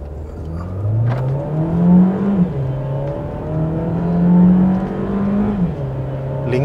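A 2024 Mercedes-Benz GLA200 with a 1.3L engine accelerates from 0 to 100, its engine note climbing steadily through two rising pulls with a gear change between, heard from inside the cabin.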